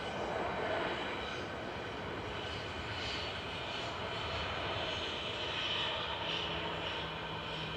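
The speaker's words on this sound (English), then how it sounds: "And as the Qatar departs, Singapore touches down." A Singapore Airlines jet touching down at Manchester Airport makes a continuous, even engine roar at moderate distance. The wide rushing noise holds steady throughout with no talking.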